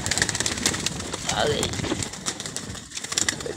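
A female pigeon at a pigeon keeper's loft gives soft cooing calls, mixed in with someone talking nearby and other background bird sounds.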